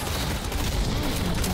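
Rapid gunfire aimed at the Patron objective in the shooter game Deadlock: a dense, loud, unbroken rattle of shots that fills the whole moment.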